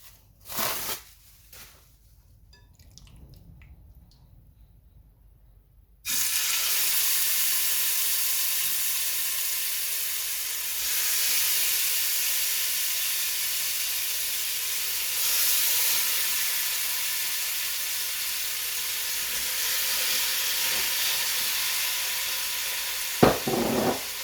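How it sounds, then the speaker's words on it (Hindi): Chicken sizzles in about a tablespoon of oil in a pot, a loud, steady frying hiss that starts abruptly and continues with no talk. "उसमें बिल्कुल 1 टेबलस्पून के करीब ऑयल डालें, इसको अच्छे से फैला लें। अब इसमें आप अपना चिकन डाल दें।"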